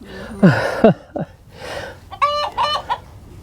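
A hen cackles excitedly after laying an egg, sending out several bursts of clucking close by with brief pauses between them.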